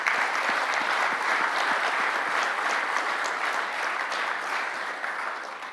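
Sustained applause from a large audience at a general session of a corporate summit, dense steady clapping that holds evenly and fades slightly toward the end.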